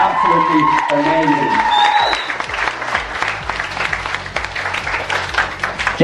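Applause breaks out in a hairdressing salon gathering, a full round of hand clapping with a few whoops over a lingering voice at the start, then steady, dense clapping carrying on to the end.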